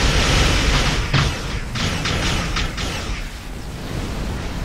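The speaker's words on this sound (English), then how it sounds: "All these explosions are going to kill me." Explosions in the Star Trek Online space combat game during a Jem'Hadar attack ship elite mission, a dense continuous roar of booms and bursts with several sharper blasts, loud throughout.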